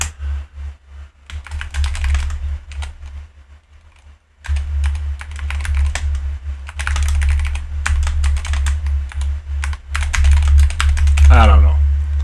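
Quick bursts of computer keyboard typing, close and clicky, pausing briefly then resuming in uneven runs, with a low steady hum beneath and a short faint voice-like sound near the end.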